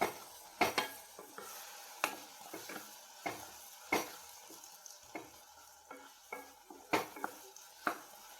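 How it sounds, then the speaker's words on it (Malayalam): Ripe plantain pieces fry in ghee in a pan, a soft sizzle broken by frequent sharp clinks and scrapes of a utensil stirring against metal, close and without talk. "ഈ നേന്ത്രപ്പഴം ഒന്ന് നല്ലോണം നെയ്യിനകത്ത് കിടന്നൊന്ന് റെഡി ഇച്ചിരി കൂടെ ഒന്ന് മൂത്ത് കഴിയുമ്പോൾ കോരി മാറ്റാം."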